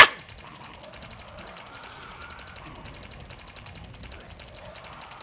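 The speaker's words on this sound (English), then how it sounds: "it's no fun to play with that submachine gun" Rapid, evenly spaced submachine gun fire from the 28 Waves Later shooter game rattles on as one continuous burst, fairly quiet and steady over a low background.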